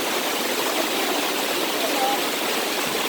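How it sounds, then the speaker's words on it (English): A waterfall pours steadily, a dense, even broadband rush that stays constant and fairly loud throughout with no other sounds standing out. "I'm just gonna sit here and admire the waterfall"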